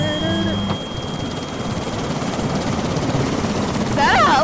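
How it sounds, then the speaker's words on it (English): Helicopter in a VR plank-walking game: a steady loud rotor-like drone runs throughout, with tonal music or effects layered in at the start and end. "Is that a helicopter?"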